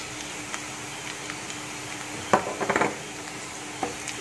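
Ginger-garlic paste fries with onions in a pan, giving a steady sizzle with scattered clinks and scraping stirs of a utensil against the metal, close up and with no one talking.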